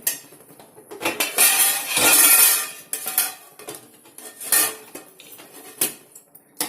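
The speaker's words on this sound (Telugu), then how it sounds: "కింద పేన వేసి దానిపైన ఈ అన్నం గిన్నె పెట్టేసుకుంటే" A metal pan is set on a stove and a rice pot is placed on top of it while cooking egg biryani, giving a series of loud, close metallic clanks and scrapes in irregular bursts with no talking.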